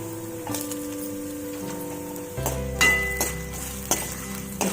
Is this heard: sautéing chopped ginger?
yes